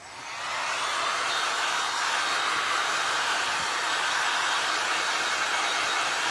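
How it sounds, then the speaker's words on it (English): A hair dryer blows steadily on a glass and resin art piece, a loud, even rushing hiss that swells up within the first half second and then holds unchanged to the end, with no talking over it. "I'm gonna hit this real quick with my"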